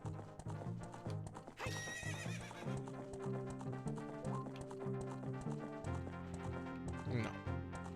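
Epona, the horse in Zelda: Ocarina of Time 3D, clip-clops along with rhythmic hoofbeats and lets out a bright, clear neigh, set against the game's steady background music.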